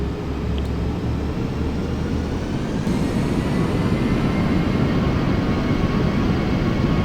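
Airbus A320 jet engines spooling up to full takeoff thrust in the Aerofly FS 4 flight simulator, a loud steady low roar that swells slightly partway through and holds, with no talk.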